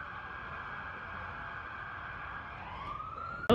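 Police car sirens at a parade wail in a steady, sustained tone from a distance, with the pitch sliding upward near the end before a short loud knock cuts in.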